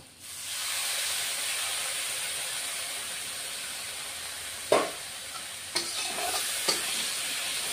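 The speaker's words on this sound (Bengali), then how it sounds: "এখন রসুন পেঁয়াজ ভালো করে কষিয়ে নিব" Garlic, onion and ginger paste stir-frying in a pan for a Bengali rohu fish curry gives a steady close sizzle, with a few sharp spatula scrapes and knocks near the end.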